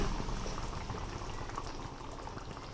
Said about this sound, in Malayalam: നന്നായി തിളച്ച് വന്നിട്ടുണ്ട് കേട്ടോ